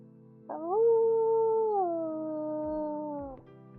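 A single long, wavering howl in the game Chapters: Interactive Stories rises and slowly falls in pitch, steady and tonal, ringing out alone in a quiet setting for about three seconds.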